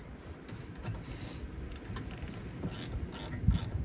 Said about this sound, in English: I'm just tightening the bolt on the back side.